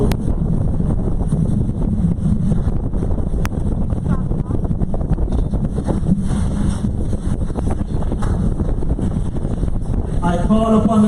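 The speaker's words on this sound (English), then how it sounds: "As soon as the wind allows." Wind buffets a microphone outdoors at a Father's Day picnic, a loud continuous rumbling roar with gusting surges throughout.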